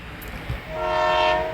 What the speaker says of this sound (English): Then an MBTA train came into view, and the Lowell line rocketed by the Downeaster.